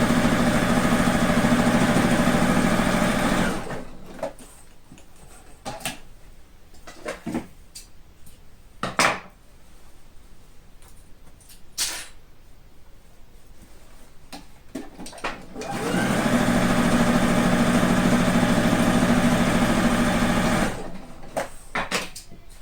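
A sewing machine stitches padded patchwork quilt pieces together for an upcycled coat: two loud, close runs of steady whirring separated by a quieter stretch of handling clicks and knocks.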